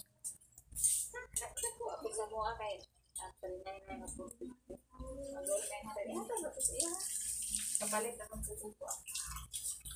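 Four cups of water are poured into a cooking pot holding lye while making kutsinta, a soft running splash rising in the second half, mostly under a person talking.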